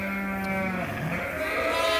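Ewes and lambs bleating close by on a sheep farm, a steady wavering bleat over a busy barn backdrop with other animals faintly calling.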